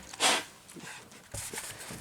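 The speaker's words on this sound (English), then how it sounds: "I need to blow my nose." A short, sharp nasal blast of air, like a quick nose blow, followed by softer rustling and shuffling nearby.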